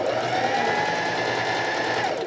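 A sewing machine sews bias binding down over thick, layered fabric from upcycled clothing. It gives a continuous close, loud hum with a slight pitch shift near the end, and no voices.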